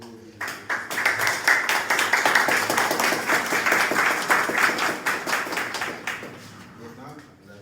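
An audience at the installation ceremony for the new director of the APN in Jérémie claps warmly. Applause swells quickly, holds dense and steady for several seconds, then fades out.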